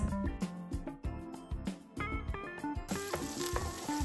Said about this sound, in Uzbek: bir dona to'g'ralgan piyozni solib qizartirib olamiz